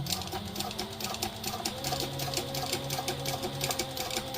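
A sewing machine stitching clear jelly vinyl, its motor running in a steady close rapid whirring with a fast regular needle rhythm throughout and no talking.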